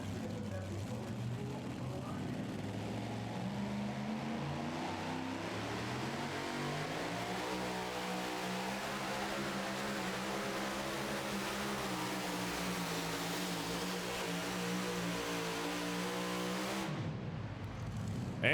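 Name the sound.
2WD pulling truck Inches Matter engine revving during pull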